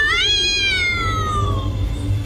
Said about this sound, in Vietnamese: mấy con mèo